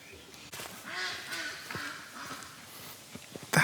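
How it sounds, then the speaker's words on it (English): A duck quacks in a loud series of nasal honking calls, with other fowl such as geese and background animal noise around it, recorded outdoors among animals. "That's the classic duck sound like in cartoons."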